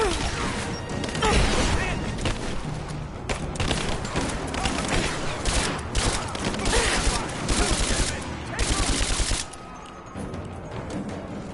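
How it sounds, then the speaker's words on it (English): Dense bursts of gunfire from the Tomb Raider video game, rapid overlapping shots and impacts running almost without a break, loud and close, with crashes mixed in before the firing drops away near the end. "I'm under fire!"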